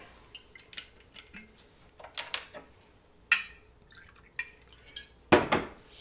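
Ice and bourbon go into a cocktail shaker: scattered clinks and light drips, then a louder clattering pour near the end, with no one speaking.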